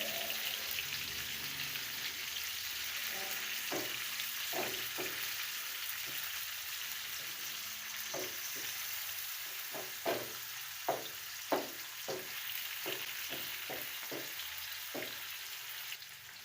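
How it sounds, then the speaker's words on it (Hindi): Fish fries in a pan after being flipped, giving a steady low sizzle with scattered soft pops and light taps that grow more frequent toward the end. The sound is fairly quiet and there is no speech. "फिश को इस तरह से पलटकर ऊपर वाला हिस्सा भी फ्राई करेंगे।"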